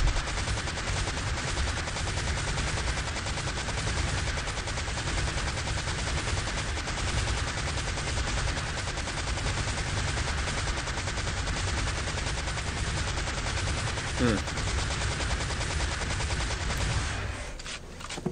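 Turret gunfire rattles nonstop in the video game Unreal II XMP, a loud dense stream of rapid shots with no gaps that cuts off abruptly near the end.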